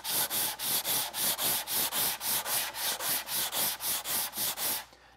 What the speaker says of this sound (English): I usually go over it again with a cork sanding block